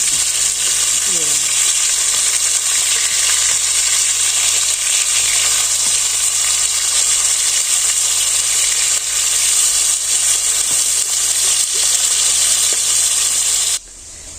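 Fish curry frying in a pan, a loud continuous sizzle that stays close and steady for about fourteen seconds before dropping away at the end.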